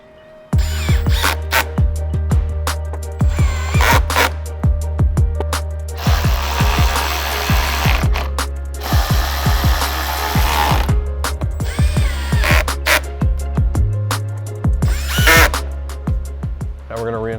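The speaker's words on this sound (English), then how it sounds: "Now we're going to reinstall the 7mm screws for the covers and the two T15 screws for the rear bumper." Power tool driving 7mm and T15 screws back into car body covers and a rear bumper during a rear wing install, in repeated short whirring bursts over a steady low hum, close and loud.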